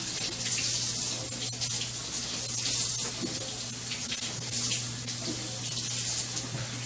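Tap water runs steadily into a sink as leafy vegetables are rinsed for Chinese dumplings, a continuous splashing hiss with small irregular surges, close and fairly quiet.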